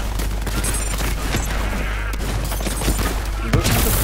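SMG gunfire in Borderlands 3, a dense, unbroken stream of rapid shots and explosive bursts that fills the whole stretch at steady loudness.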